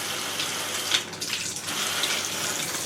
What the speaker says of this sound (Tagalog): So, hugasin natin yung paa ni Pepper na ayaw niya ng malamig na tubig.